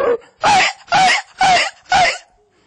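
A comedian and mimicry artist voices a dog barking, five loud, close, evenly spaced woofs in quick succession with short silences between them.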